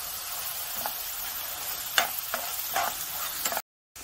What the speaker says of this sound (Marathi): मसाला भाजून घेऊ. तेल सुकेपर्यंत घ्यायला.